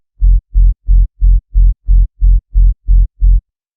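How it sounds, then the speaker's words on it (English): Ten deep, booming hardcore kick drum hits in a steady rhythm, each with a short, gritty low tail distorted by Fruity Blood Overdrive, loud and isolated. "And finally, I added a fruity blood overdrive with these settings, to distort the tail a little bit."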